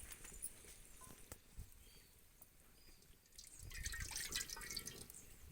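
Water is poured into a cooking pan to start a jaggery syrup for sweet rice laddu. It comes as a quiet, uneven splashing and dripping that grows louder toward the end, with no talking.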